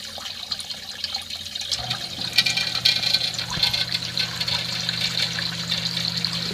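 A DIY battery backup sump pump kicks on and runs water out, a steady splashing, gushing flow with a low motor hum that rises partway through and continues loud and constant.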